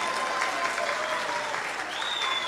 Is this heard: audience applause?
yes